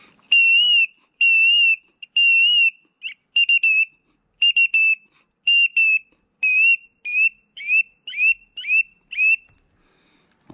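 Curlew decoy whistle used as a hunting call for shorebirds, blown in a series of about fifteen clear, loud whistled notes, the first ones long and sustained, the later ones shorter with upward and downward slurs, each note alone with brief gaps.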